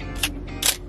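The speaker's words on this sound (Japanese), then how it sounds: "横走り布膜のフォーカルプレーンシャッターになりますね" A Minolta film camera's horizontal-travel cloth focal-plane shutter fires with two quick mechanical clicks, the second louder, very close and otherwise quiet.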